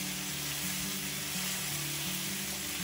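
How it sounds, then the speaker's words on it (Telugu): Tomatoes, garlic and a little tamarind fry together in a pan for a raw tomato chutney, giving a steady, dense sizzle that runs without a break, close and fairly loud, with no voices. "కొద్దిగా చూడండి 2 రెమ్మలు ఇలా కొంచెం చింతపండు వేసి 1 నిమిషం వేగనిద్దాం।"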